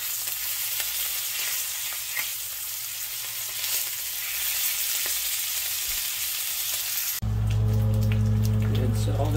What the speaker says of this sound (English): Throw it in a pan or a skillet, or you can toss it on a sheet pan.